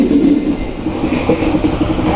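Economy-class Bengawan train running on rails, heard from inside the carriage as a loud, steady rumble with faint rhythmic clicking.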